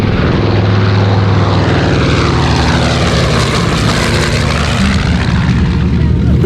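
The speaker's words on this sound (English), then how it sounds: "B-25 Mitchell, made by North American, 1944." Engines of a 1944 North American B-25 Mitchell bomber at a fly-in, a loud continuous propeller drone with a steady throbbing low hum and a slowly shifting pitch, close by and filling the whole stretch.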